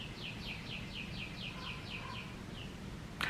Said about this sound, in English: the birds are so pretty.